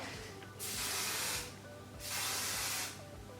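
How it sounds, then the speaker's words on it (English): Hairspray spraying in two steady hissing bursts of about a second each, separated by a short pause, close and fairly loud against quiet room tone with no talking. "Then you get some hairspray, like get hairspray."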